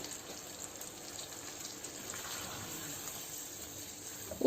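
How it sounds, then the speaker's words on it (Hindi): Water, about a cup, poured into a pan of frying potatoes for aloo bhujia, a soft, steady gushing and hissing that runs continuously at low volume without any talk. "आलूओं को 3 से 4 मिनट तक मैंने भून लिया और अब इसमें तकरीबन 1 कप तक मैंने पानी"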